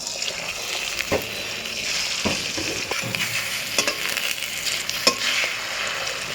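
Beaten egg sizzling in hot oil in a pan while being stirred, a steady loud crackle broken by several sharp scraping knocks of the utensil against the pan.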